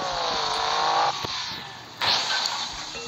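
Car engine revs in sharp bursts at a tuning club, a high revving whine that rises and drops back twice, close and loud, with no speech over it.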